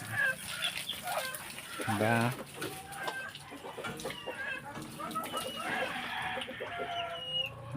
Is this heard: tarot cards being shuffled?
no